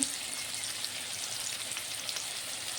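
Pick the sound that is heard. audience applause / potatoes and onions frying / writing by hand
potatoes and onions frying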